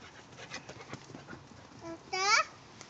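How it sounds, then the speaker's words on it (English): A dog pants outdoors while children play in a yard, quick breathy huffs at close range, with a voice and a brief high squeal breaking in near the end. "Is that the dog?"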